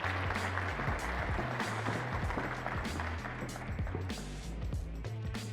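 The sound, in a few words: audience applause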